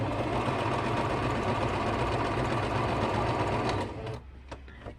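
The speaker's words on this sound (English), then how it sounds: "Now I'm going to sew it from here to here." A sewing machine runs steadily, stitching across a bubble quilt with a dense, even mechanical whir for about four seconds, then stops abruptly, leaving a few faint clicks and handling sounds.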